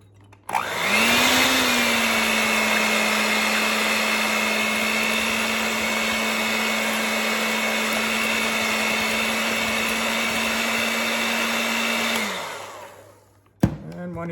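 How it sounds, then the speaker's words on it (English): An electric hand mixer fitted with a whisk beats batter in a bowl, a loud, steady whirring hum that starts abruptly, runs unbroken for about eleven seconds, then winds down and stops with a brief clunk. "So I'm using a whisk in my hand mixer."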